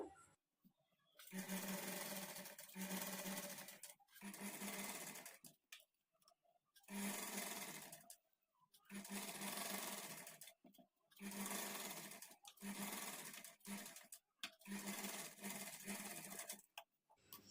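A sewing machine stitches invisible thread piping in steady whirring runs of a second or two each, separated by short pauses, close and fairly quiet with no talking over it.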